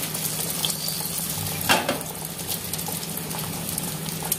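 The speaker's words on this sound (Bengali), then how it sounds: "এখানে তো চিকেনটা কষাচ্ছি" Chicken sautéing in a pan gives a steady close sizzle, with a spoon or utensil scraping and clinking against the pan around the middle.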